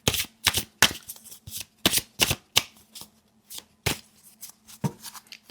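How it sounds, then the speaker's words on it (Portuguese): An oracle card deck being shuffled by hand, with sharp, close riffling bursts coming in an uneven rhythm and brief quiet gaps between them. "E eu vou também embaralhar um pouquinho esse oráculo."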